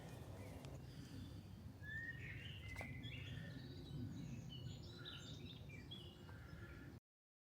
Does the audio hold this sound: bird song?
yes